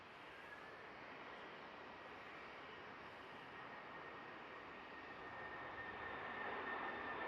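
An Aer Lingus A380 airliner touches down at Manchester Airport, a steady broadband roar of engine and airflow that holds for several seconds and swells slightly toward the end, with no talking.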